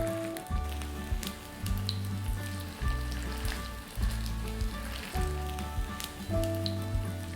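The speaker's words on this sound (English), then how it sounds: "careful with the hot oil when you're putting the patties in" Root veggie burger patties made with brown rice fry in hot oil with a loud, crackling sizzle that swells and eases in a repeating pulse, close and with no talking.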